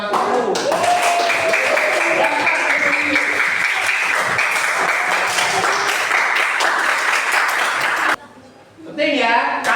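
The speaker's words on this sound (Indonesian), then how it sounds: "Tepuk tangan buat Mas Guru." Loud, dense clapping from a group of schoolchildren at an elementary school lesson, cheering their teacher; the applause runs steadily for about eight seconds, then breaks off abruptly as a voice begins speaking.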